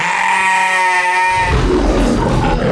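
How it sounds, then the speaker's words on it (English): A flock of sheep bleats in loud, overlapping cries that hold steady, then break into a busier, noisier wash of sound. "taking care of the kindest creatures on earth. Sheep. I want you to meet my flock."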